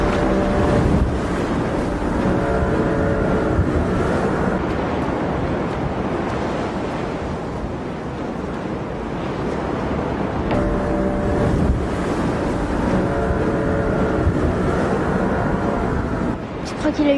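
Rough sea surf and gusting wind roar continuously near a lighthouse on the coast, a loud, dense wash of crashing waves and wind buffeting the microphone, with voices faintly present beneath.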